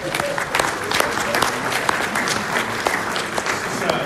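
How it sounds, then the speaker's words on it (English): Audience at a privacy-commission talk on breach reporting gives the speaker a round of applause; steady, dense clapping from a modest crowd, held at an even level throughout. "Let's give him a round of applause."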